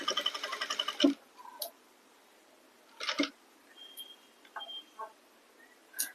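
A sewing machine runs a short burst of rapid stitching on a blouse seam, stops, then gives a second brief run, with scattered clicks and handling noises of the fabric in between.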